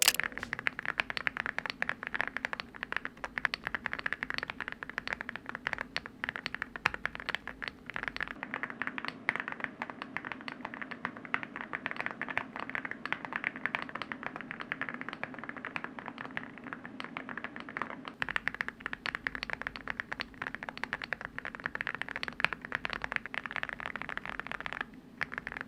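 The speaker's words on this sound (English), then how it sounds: "So here is what I would say is the thockiest linear keyboard I can build right now." Steady, continuous typing on a thocky linear mechanical keyboard, with dense keystrokes that carry a deep low-mid body. It is fairly quiet and close, with no talking over it.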